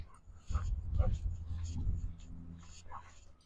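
A dog on a leash whimpering and yipping in short, close bursts, with a person talking over it.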